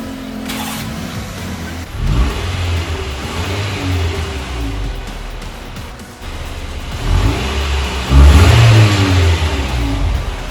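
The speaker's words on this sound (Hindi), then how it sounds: "अब आपको इसका पहले खाली का साउंड सुनाते हैं गाड़ी का" A car engine, before a turbo whistle exhaust is fitted, revs repeatedly from idle, with several rising surges of medium engine roar, the loudest near the end, heard up close with no talking.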